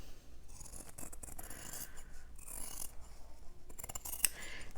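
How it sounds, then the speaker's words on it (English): Scissors trimming the corners of fabric during diaper pouch sewing: a few quiet, close snips and crisp shearing scrapes over low background hiss, without speech. "I like to trim the little corners, cut the little ear off"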